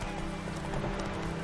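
Horse hooves clip-clopping in The Witcher 3 video game, a steady faint trotting rhythm under a dense background wash.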